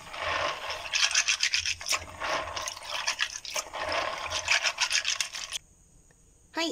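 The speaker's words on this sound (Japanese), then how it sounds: "次に大豆を洗っていきます。" Soybeans being washed by hand in water for homemade natto, a steady wet rubbing and rasping as the beans are scrubbed together, fairly close and continuous for several seconds before stopping abruptly.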